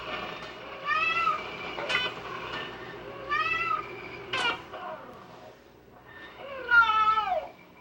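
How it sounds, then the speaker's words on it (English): A domestic cat meows three times with pauses between the calls, each a clear, drawn-out tonal cry with a rising then falling pitch. The calls are close and unaccompanied by any talking. "The meow is a composite call made of 2 different components."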